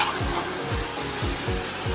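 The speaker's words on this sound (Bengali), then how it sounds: "তো এখন ফুলকপির রেজালা বানানো হচ্ছে, তো তার জন্যে এই মশলাটা যেটা পেস্ট করে রেখেছিলাম সেটা দিয়ে দিলাম" A ground spice paste fries in a pan for cauliflower rezala. A close, steady sizzle carries regular scraping strokes of stirring, roughly two per second, with no talking.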